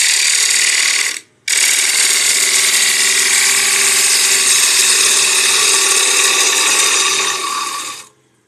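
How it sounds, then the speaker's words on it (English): A 5/8 inch bowl gouge cuts a wooden bowl, giving a loud, continuous hissing, whirring cut that drops out once near the start, resumes steadily, then fades out at the end. "this is a 5/8" bowl gouge, so it's a little bit chunky for this size of a bowl"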